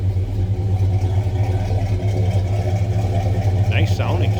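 A 1972 Pontiac LeMans two-door hardtop engine idles steadily with a low, rumbling throb, close and continuous, with a faint higher whine near the end.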